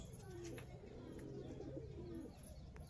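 Rajasthani Laldum Kaldum pigeons coo softly in a low, rolling murmur, faint and somewhat distant against a quiet background hiss, with no speech.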